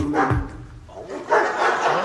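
Two dogs barking in short bursts, near and loud, one or two barks with a brief whine-like tail, no other sound around them.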